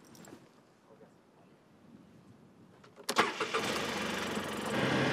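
A car engine cranks and catches after a few quiet seconds, then settles into a steady, fairly loud idle close by, with faint background sounds before the start.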